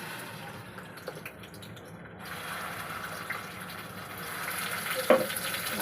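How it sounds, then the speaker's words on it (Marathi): Ground wet masala paste goes into a pan for a masala bhaji, and a soft frying sizzle swells and keeps a quiet, steady hiss, with a small clatter near the end. "यात वाटण टाकूया आपण"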